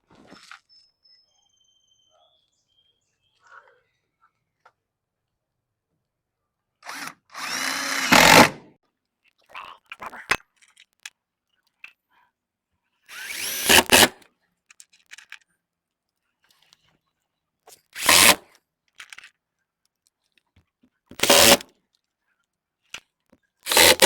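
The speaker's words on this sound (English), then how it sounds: "get it in place, and screw it down" A drill driving screws to fix a vinyl attic gable vent in place, several short separate bursts of whirring spaced by quiet pauses, close and loud, with no talk.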